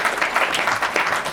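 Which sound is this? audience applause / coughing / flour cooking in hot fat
audience applause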